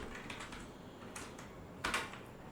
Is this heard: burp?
no